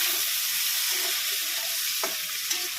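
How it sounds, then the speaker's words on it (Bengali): Chopped onions frying in oil in a pan with cumin seeds and a bay leaf, a dense continuous sizzle heard close up, with a couple of soft utensil taps toward the end. "পেঁয়াজটা ভাজা হয়ে গেছে"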